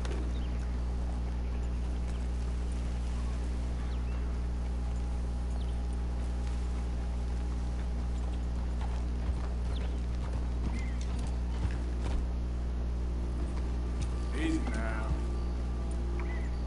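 Horse hooves clip-clop at a steady walking rhythm in Red Dead Redemption 2, soft and close over a low constant background hum, with a brief whinny near the end.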